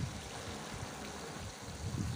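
A fish farm aerator lifts water from the bottom layer of a pond and splashes it back, giving a steady, close rushing and gurgling wash of water with no talk.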